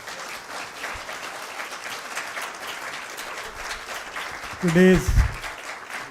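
Sustained applause from a lecture-hall audience at a memorial lecture, steady and broadband throughout, with a single voice briefly speaking over it near the end.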